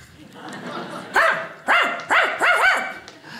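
A person imitates a dog barking like Lassie during a stand-up comedy routine, giving four loud, close, yelping barks in quick succession after a brief pause, with no other talk.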